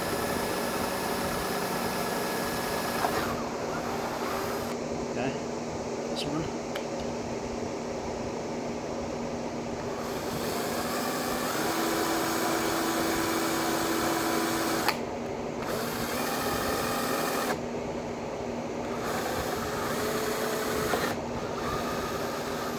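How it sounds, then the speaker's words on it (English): Power drill boring through the fiberglass gel coat of a Bass Cat boat, a steady grinding, rasping drone that runs close and loud almost without pause, its pitch shifting slightly as the bit cuts, with a brief spoken remark. "Once that powder is getting through the gel coat, that, then you can flip the drill forward."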